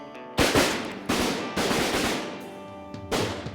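Shotgun blasts during a goose hunt in Kansas, four loud close reports in quick irregular succession with a faint fifth shot, each ringing out briefly.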